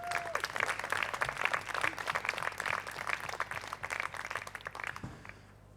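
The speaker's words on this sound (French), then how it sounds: "et je vous demande de l'applaudir." A theatre audience at a mock-trial eloquence contest breaks into sustained applause, dense clapping filling the room for about five seconds before tapering off at the end.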